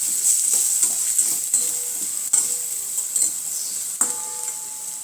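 Chopped onions sauté in a pan with a steady soft sizzle. A spoon scrapes and taps against the pan at irregular moments, sounding close and alone with no voices.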